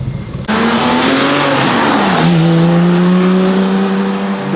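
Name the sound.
GT3 sports car driving past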